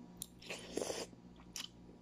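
Raw onion crunches and squelches between the teeth in a few close, wet bites over about two seconds. The chewing is quiet and no one speaks.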